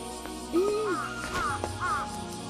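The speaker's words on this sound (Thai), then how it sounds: "อาอีกา" A crow caws several times, a drawn-out call followed by shorter harsh caws, clear and moderately close against quiet background.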